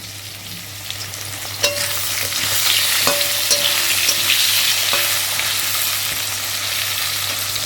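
Eggplant sizzles steadily in hot oil in a pan, a close, continuous frying hiss with a few scattered pops and the scrape of a spatula against the pan.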